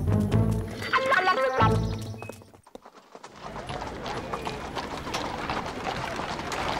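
Horse hooves clip-clop in a steady rhythm in a French Lucky Luke cartoon, close and fairly loud, then break off briefly before a softer stretch of hoof and ambient noise follows.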